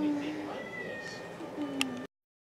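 A cat meows twice, close and fairly clear, over a low household background hum, with no talk during the calls.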